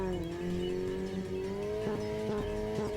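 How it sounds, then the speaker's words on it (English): A powerful car engine idles and revs in an underground space in the Steins;Gate 0 visual novel, a loud, steady droning roar with rising tones and a few sharp bursts toward the end. "The sound of a powerful engine shook the underground air."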